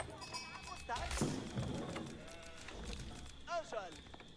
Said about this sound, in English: I've got a bunch of sheep though.